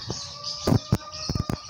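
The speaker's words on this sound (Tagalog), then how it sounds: "wala tayong ibang naririnig dito kundi huni ng ibon" Birds call outdoors in a relaxed natural setting, a handful of short chirps and coo-like notes in quick succession, fairly close and clear, with no talking.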